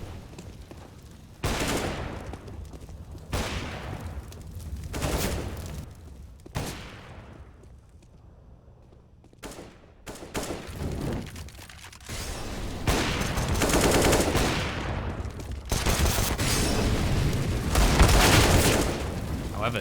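Rapid bursts of rifle gunfire trade back and forth in a competitive Counter-Strike match on the Mirage map, loud and close with short pauses between volleys, while a caster talks over the shooting.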